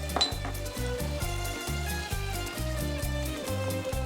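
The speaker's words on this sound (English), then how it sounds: "Lightly stir the ingredients" Pasta, boiled octopus, soy sauce and butter are stirred lightly in a pan, giving a steady run of soft utensil scrapes and knocks against the pan over a low sizzle, close and even-paced.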